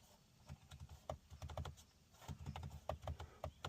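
Aux light switches on a Jeep Gladiator JT Sport click and rattle in quick irregular bursts, close up and faint, with no talking.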